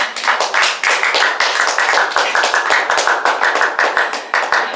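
An audience claps in a lecture hall during a talk on gender identity ideology and women's rights, a loud, dense and steady patter of many hands sustained throughout.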